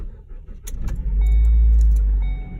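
A car with a previously dead battery, jump-started from another car, cranks with a few clicks and rattles and then catches into a loud, steady low engine rumble close by.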